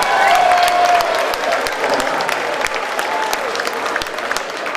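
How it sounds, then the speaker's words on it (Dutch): Steady applause from a crowd at a fight match, dense clapping that fills the whole stretch at a loud, even level. "nogmaals geef ze dame een applaus voor"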